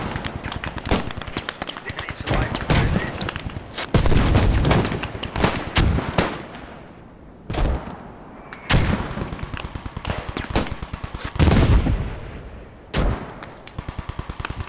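A tank pounds a building in Post Scriptum, with heavy repeated booming shots and bursts of gunfire through a Utah Beach battle, loud impacts separated by short pauses, and voices talking at times.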